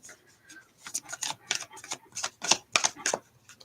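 A deck of tarot cards being shuffled nearby in a series of quick riffling, slapping bursts of varying loudness, with no talk heard.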